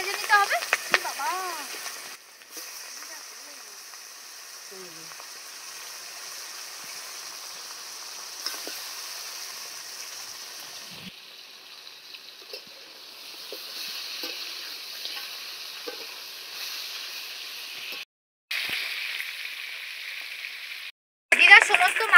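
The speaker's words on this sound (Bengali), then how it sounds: "তেলটা গরম হয়ে যাওয়ার পর মাছের কাঁটাগুলোকে ভালো করে ভেজে নিতে হবে।" Bhetki fish bones fry in hot oil in a kadai, giving a steady, close sizzling hiss that pauses briefly a few times, with faint voices now and then.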